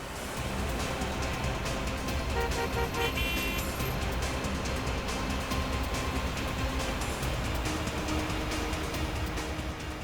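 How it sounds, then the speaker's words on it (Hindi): Busy road traffic rumbles continuously, with scattered car horns tooting over the dense engine noise throughout. "ट्रैफिक बहुत है"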